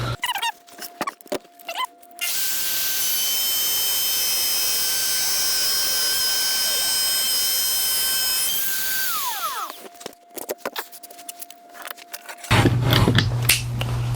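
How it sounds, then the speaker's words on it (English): A handheld router cuts a T-track groove into a crosscut sled, a loud, sustained high-pitched whine and cutting roar lasting several seconds, bracketed by scraping handling noises, then winding down before a brief low hum. "So we'll get started with the routing process"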